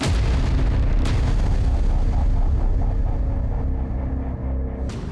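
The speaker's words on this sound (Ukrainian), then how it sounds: "Особливо росіян наполохали вибухи на НПЗ та газових заправках." A heavy, rumbling explosion roar that fills the clip, loud and sustained with a sharp crack near the start and another near the end.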